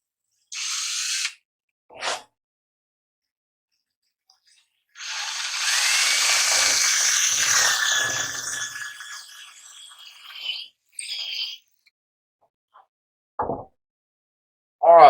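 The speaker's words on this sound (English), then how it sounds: "I'm going to use a 3/16 drill bit to drill a hole into the bridge" A power drill with a 3/16 bit bores a wire hole into an electric guitar bridge, with short trigger bursts, then one sustained whining run that rises and fades, and brief spurts afterward, close and loud.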